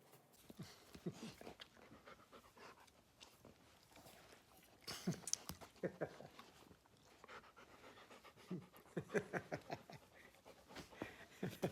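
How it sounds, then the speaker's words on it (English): Dog panting close by in rapid, rhythmic bursts across the whole stretch, growing louder midway, with no talk over it. "Oh, this is a fun dog."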